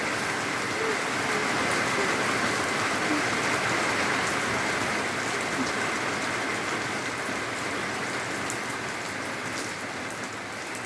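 Rain pouring outside a house, a dense continuous hiss of drops on surfaces, steady and fairly loud, with no speech over it.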